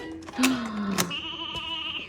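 Sheep bleat nearby, one loud wavering call followed by another higher, sustained bleat, standing out clearly against quiet surroundings.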